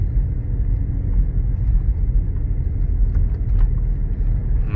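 A car drives a snowy winter road on a long trip, its interior road noise a steady, close, low rumble that holds evenly throughout with no talking.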